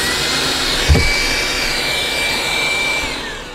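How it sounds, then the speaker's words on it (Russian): A loud, steady high-pitched whine of a Xiaomi Dreame F9 cordless vacuum mop motor running hard in turbo mode, close by, with a brief thump early on and a faint tonal whistle. "Можем посмотреть, как сейчас будет шуметь наш пылесос."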